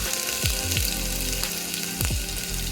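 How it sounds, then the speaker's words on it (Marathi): Cumin and mustard seeds crackle in hot oil over a low flame while tempering spiced rice with toor dal, giving a steady close sizzle with fine sputtering and a few brief swooping tones. "फ्लेम स्लो ठेवून आता जिरं मोहरी छान तडतडून द्यायचं"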